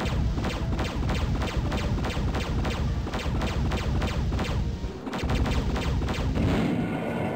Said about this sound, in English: Let's not be in the range of its explosion this time.